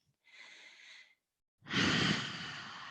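A deep breath during a yoga class: a soft, airy inhale for about a second, a short pause, then a louder, fuller breathy exhale that slowly fades, close and with no talking.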